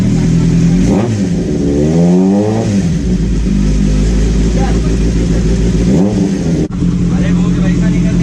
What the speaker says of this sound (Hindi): गाड़ी के ऊपर स्टार्ट करेंगे, इसका आवाज़ देखते कितना डिफरेंस आया है साउंड में।